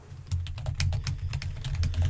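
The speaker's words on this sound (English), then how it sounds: "I will be typing extensive notes regarding this interview and your answers" Rapid, irregular keystrokes on a computer keyboard, close and crisp, continuing steadily for a couple of seconds over a low background hum.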